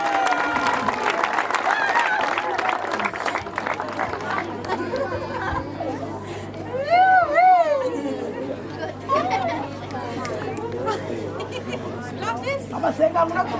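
Church congregation applauding Jesus during a choir service, a dense wash of clapping mixed with crowd chatter and excited shouts, with a pastor's voice speaking over it.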